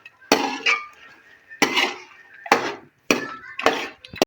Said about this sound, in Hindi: अब हम भूनेंगे, सारे मसालों को शामिल कर लिया।